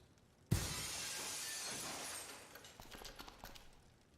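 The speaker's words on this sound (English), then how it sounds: "let's cross our fingers that the seat cover absorbs the noise of the breaking glass" Glass breaks in the video game Dead Synchronicity: a sudden sharp crash followed by a couple of seconds of tinkling shards scattering and settling, fairly quiet overall.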